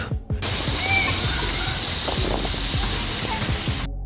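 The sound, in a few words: big ocean waves at a beach in Iceland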